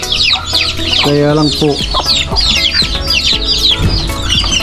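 Fighting roosters raised for cockfighting cluck and call loudly and close by in a busy run of overlapping bursts, with a voice speaking briefly among them.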